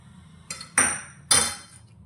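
A spoon mixing melted ghee into semolina in a metal vessel, giving three short, bright clinks with a brief scrape, close and distinct over quiet background.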